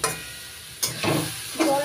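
Young radish and green chillies fry in a pan while being stirred, giving a close, steady sizzle with a few louder scraping bursts as the pieces are turned.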